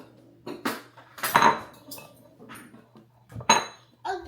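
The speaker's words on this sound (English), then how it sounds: "I'll grab another bowl." Ceramic bowls being picked up and knocked together in a kitchen, a handful of sharp clinks and clatters spaced irregularly, close and fairly loud against a quiet background.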